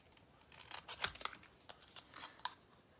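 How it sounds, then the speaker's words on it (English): Scissors cut along the straight sides of a sparkly paper star, a close series of crisp snips and slides with one louder clip near the middle, heard alone without speech. "When you're cutting, especially something like this it's a star with really straight sides"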